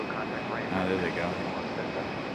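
Air Cal airliner taxiing at night at Raleigh Durham International airport, a steady distant jet engine rumble with a faint high whine running throughout, with people talking over it.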